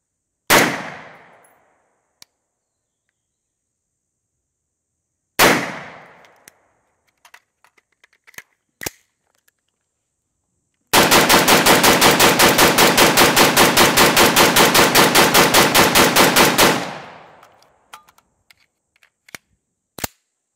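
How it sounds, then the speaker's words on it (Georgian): An LMT MARS-L direct-impingement rifle fires two loud single shots with decaying echoes, then a long sustained burst of rapid, evenly spaced shots lasting about six seconds, followed by faint clicks and handling sounds; no talking. "როცა ვისროლეთ გუშიანიდან, ეს იყო 10 ტყვია, 30 ტყვია გახურება და შემდეგ ისევ 10 ტყვია."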